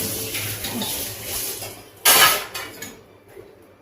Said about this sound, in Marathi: पातेलं घेतलेलं आहे आपण.